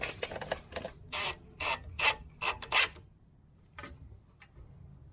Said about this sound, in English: These screws, if you do a 3/3 second, you screw them right on into the metal and they hold just fine.